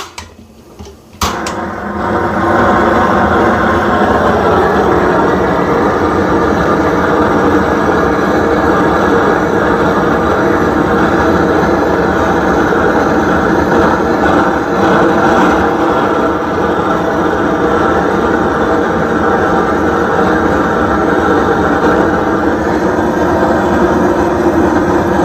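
A propane torch head caramelizing sugar for creme brulee, roaring as a loud, steady, close hiss of flame that starts after a brief click and runs unbroken, with no talk.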